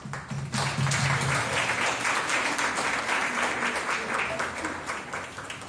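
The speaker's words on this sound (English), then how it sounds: "Please give her an applause." An audience at a university cultural event claps steadily, a dense wash of applause that starts right after a short bit of voice and then stays even before easing slightly at the close.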